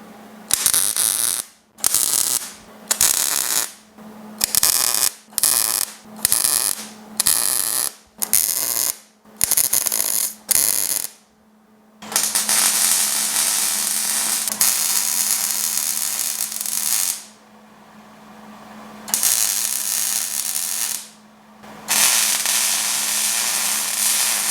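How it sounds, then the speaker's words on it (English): Repeated short bursts of MIG tack welding on a steel casing piece for rear axle clearance work on a GTO restomod, crackling loud and close in about ten quick tacks, then longer continuous weld beads with brief pauses. "We'll get it fitted, tacked in place, prepped, and get it welded."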